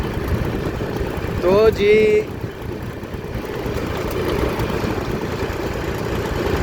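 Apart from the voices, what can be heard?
tractor with trolley driving on road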